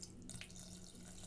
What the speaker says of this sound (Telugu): ఇప్పుడు కొన్ని నీళ్లు వేస్తున్నాను ఉడకపెట్టుకోవడానికి.